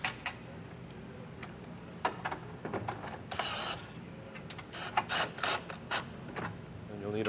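A 3/4 inch socket wrench tightens a plastic lock nut onto a bolt while a Blue Ox base plate is fitted to a 2024 Chevrolet Silverado 1500, making quiet, irregular ratcheting clicks and metallic taps close by.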